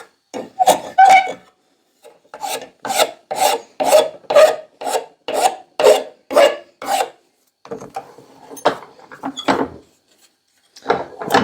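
A wooden axe handle for a Collins axe is shaped to a tapered fit, giving a run of about a dozen close, rhythmic rasping strokes in bursts with short pauses between them and no voices.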